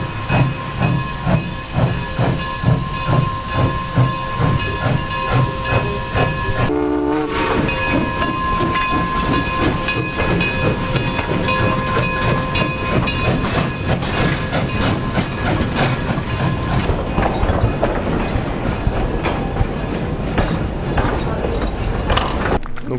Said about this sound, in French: il y a un vieux train à vapeur qui fait tous les jours le train touristique